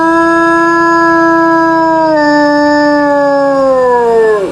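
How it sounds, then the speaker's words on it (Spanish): A wolf lets out one long, loud howl, a steady tonal call that holds, then bends and falls away at the end, heard alone and close. "la loba lanzó un hermoso y largo aullido."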